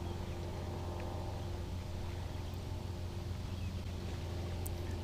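A steady low engine drone of a boat hums on a clear lake, continuous and moderately distant, with faint wind and an occasional bird chirp.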